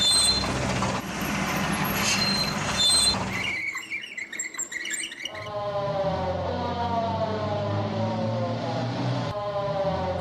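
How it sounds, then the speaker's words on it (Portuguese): A police car siren wails on its own, a steady rising and falling tone that follows earlier bursts of other vehicle sounds, loud and close with no talking over it. "Um carro de polícia."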